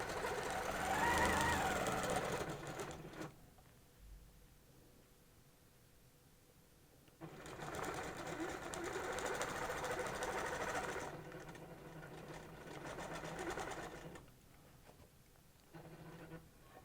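A sewing machine back stitching a cable ruler quilting pattern, steady whirring runs in two long bursts separated by a quiet pause, with a short third burst near the end.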